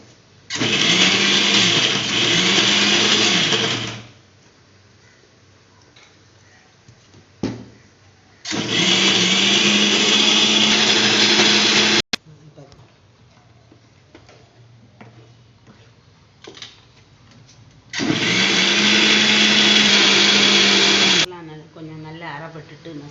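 A mixer grinder grinding black pepper and dried vathal whirs loudly in three separate bursts of a few seconds each, with quieter pauses and light clatter in between.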